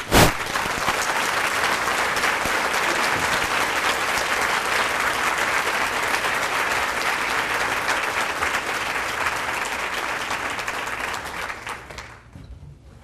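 A school district State of the District audience bursts into loud, sustained applause as a speaker is welcomed, dense clapping holding for about twelve seconds before fading out.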